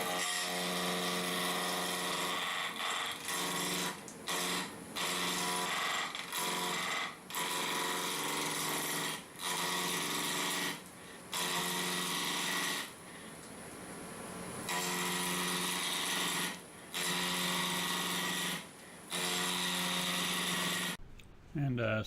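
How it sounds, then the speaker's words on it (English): Plywood and mesquite bowl blank roughed on a wood lathe with a 5/8 bowl gouge: a steady harmonic motor whine broken by repeated gaps as the gouge cuts on and off, loud and close throughout. "I start roughing this out with a 5/8 bowl gouge"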